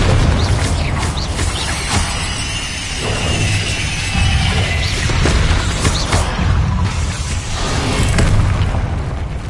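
The Confringo blasting spell explodes in the video game Hogwarts Legacy, a loud, dense run of booming blasts and crashes that continues without pause.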